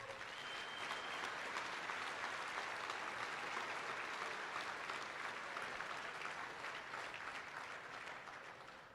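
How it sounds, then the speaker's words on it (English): Sustained audience applause at a livestock auctioneer championship awards ceremony, a dense even wash of clapping held for the full length and tapering slightly at the end. "let's give them a big round of applause"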